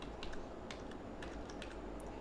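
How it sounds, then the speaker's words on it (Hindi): Keys on a computer keyboard tapped repeatedly, likely the arrow keys, while moving between cells in an Excel spreadsheet; light, irregular clicks sit close over steady background hiss. "आप सिंपल ये जो एरो की है कीबोर्ड पे ये देखें"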